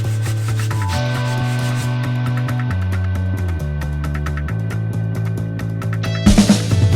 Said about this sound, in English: And with your stipple brush